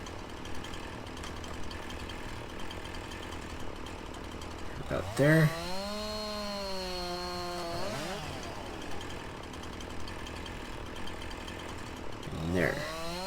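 A chainsaw in Farming Simulator 19 revving up and bogging as it cuts through wood, a steady engine drone with a long rising-and-falling cut in the middle and another rev near the end, a brief voice heard.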